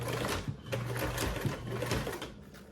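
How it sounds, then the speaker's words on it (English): Sewing machine basting stitches around a Pandora Allure quilt block with stabilizer, running steadily and close with a continuous rapid needle whir and slight shifts in pace. "Now we're going to go ahead and baste around."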